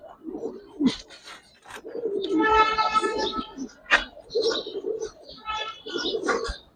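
Silver-coloured pigeons coo repeatedly at close range, their low throaty calls layered with a few chirps and scattered voices in the background at a pigeon market.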